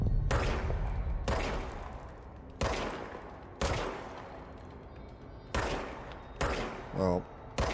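Gunfire from the video game Control: a series of loud, sharp shots lands at irregular intervals, each crack dying into a short rumbling tail. A brief rattling burst comes near the end.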